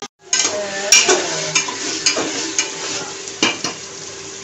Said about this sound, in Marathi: आता भाज्या छान अशा परतून होतील टोमॅटो सोबत।